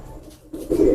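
A French pigeon coos close by in a short, soft burst that swells louder near the end, with no talk over it.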